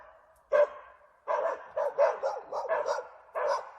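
Dogs bark in a series of sharp, loud, close barks with short gaps, some yips mixed in, alone without talk.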